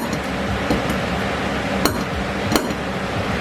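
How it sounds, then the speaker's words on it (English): Automatic punch striking metal during a beginner knife-making class, a few sharp metallic clicks, two of them louder, over steady room noise. "This is a punch, this is an automatic punch."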